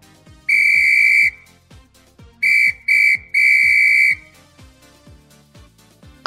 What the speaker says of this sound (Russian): Кто свистел? Я свистела, товарищ участковая.